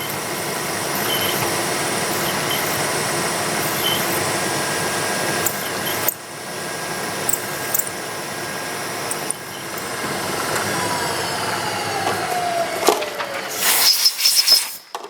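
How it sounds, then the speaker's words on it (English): A sensitive micro drilling attachment cuts a small radius in a metal part, giving a steady, close mechanical whir with a few brief dips and pauses and a burst of louder clatter near the end. "So that's the little radius I just drilled right there"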